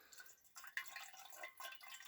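Water drips from a hand-squeezed filter pouch, with a few close, soft splashing drips and trickles in short irregular bursts over a quiet background.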